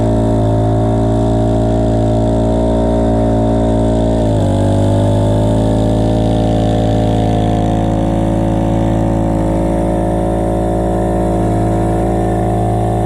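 A handheld string trimmer's small engine runs steadily and loudly close by for the whole stretch, holding a constant droning note with a brief dip in pitch partway through before settling back to a steady idle-like hum.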